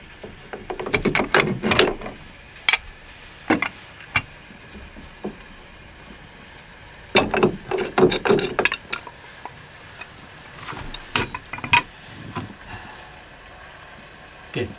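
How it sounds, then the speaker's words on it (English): A pipe wrench clanks and clicks against the packing gland nut on a Catalina Capri 26 sailboat, in two clusters of sharp metallic strikes and rattles separated by quieter pauses, close and fairly loud. "I'm working with a pipe wrench in reverse."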